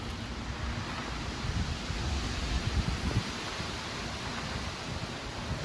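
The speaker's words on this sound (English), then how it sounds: "This wind is something else." Strong, gusty wind blows outdoors in a storm-damaged garden in a windy city, a constant roaring rush with low buffeting thumps, loud and steady throughout with no voices.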